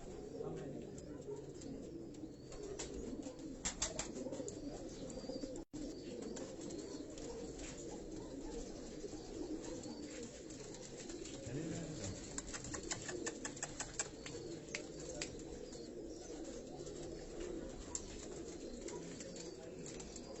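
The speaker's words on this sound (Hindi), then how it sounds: "ये जो रामपुरी और टैडियों के क्रॉस कबूतर ये हाजी साहब आपको दिखा रहे हैं" Rampuri and Teddy cross pigeons coo steadily in a loft, a low continuous murmur of overlapping coos with scattered clicks and rustles, and faint talk mixed in.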